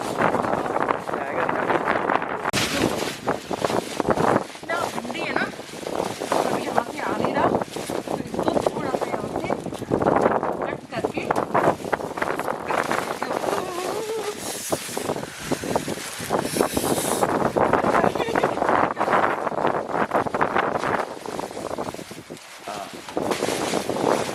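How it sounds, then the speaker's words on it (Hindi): Strong wind gusts outdoors on a snowy day in Houston, Texas, a loud, constant rushing roar that buffets the microphone the whole time, with people talking underneath. "इतनी हवा चल रही है सब उड़ेगा"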